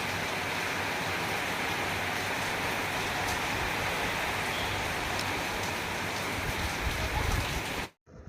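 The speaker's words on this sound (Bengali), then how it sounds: "ও কিরাম বৃষ্টি পড়ছে জোরে।" Heavy rain falls steadily and gives a dense, even hiss from start to end, then stops abruptly near the close.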